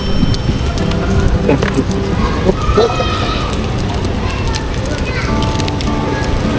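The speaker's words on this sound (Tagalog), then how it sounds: "sobrang lakas ng ulan mga tol" Heavy rain pours down in a dense, steady hiss during a motorcycle taxi ride, with scattered splashes and patter and some background voices mixed into the downpour.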